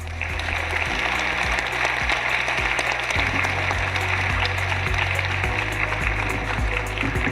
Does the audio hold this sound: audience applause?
yes